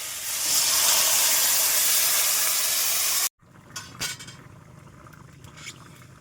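Water poured into a pan of fried spiced masala with potatoes and turmeric, a loud hissing burst of steam that cuts off abruptly, followed by faint scattered bubbling and clinks.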